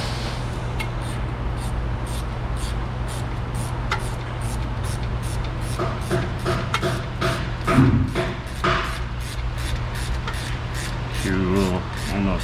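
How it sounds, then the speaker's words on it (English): A ratchet wrench clicks in quick regular bursts while bolts are tightened during brake and power steering work in a garage. The clicking is close and crisp, with a few thuds and some handling noise in between. "Couple clicky clicks with the ratchet wrench."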